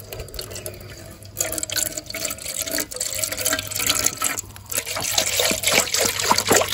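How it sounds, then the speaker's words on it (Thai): Water from a half-full bottle pours into a pot for making a jelly dessert, a steady trickling splash building over several seconds with a constant low hum beneath. "เอามาใส่น้ำกันค่ะเทลงไปเลย น้ำครึ่งขวดค่ะ"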